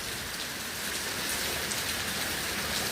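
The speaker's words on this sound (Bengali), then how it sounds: "করাচিতে বৃষ্টি এখনো বন্ধ হয় নাই" Heavy rain pouring at night in Karachi, a dense, steady hiss of drops on surfaces that holds evenly and loudly throughout with no voices.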